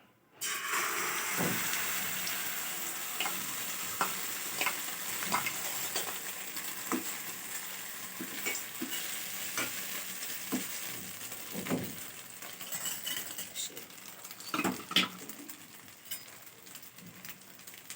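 An egg cracked into hot oil for an omelette fries with a continuous close sizzle, broken by sharp clicks and taps of a utensil against the pan throughout; no talking.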